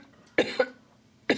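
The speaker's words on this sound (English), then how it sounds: "I feel like coughing now." A person in a doctor's consultation room coughs, with a quick double cough followed by another single cough, close and clear against a quiet room.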